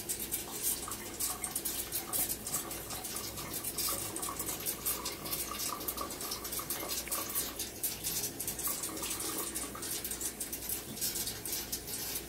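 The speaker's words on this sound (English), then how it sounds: "Let's take her to the sink and rinse her off real quick." A Cold Steel Master Hunter VG-1 knife is rinsed under running water at a sink, a continuous close splashing patter with small drips and bumps, no talking.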